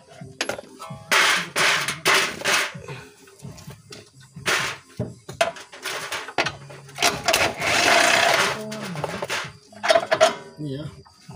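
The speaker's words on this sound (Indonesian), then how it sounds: "Nah ini baut sayap di sini kita buka dulu ya." Wrench loosening the wing bolt on a Honda BR-V suspension, with irregular close metallic clanks, knocks and ratcheting bursts between quiet gaps.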